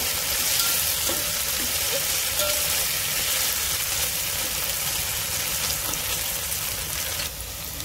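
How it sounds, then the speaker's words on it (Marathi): Ginger, coriander and garlic paste sautés in a hot pan for masala rice, giving a steady, close sizzle throughout with a few light stirring scrapes and no voices. "तर छान असं याला आपण परतून घेऊया"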